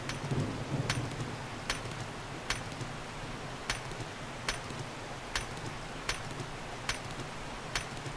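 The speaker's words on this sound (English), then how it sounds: "Is it raining on where you are or no? Yeah, it's raining." Steady rain in the video game 7 Days to Die hissing across the scene, with sharp periodic cracks or thumps every second or so cutting through the downpour.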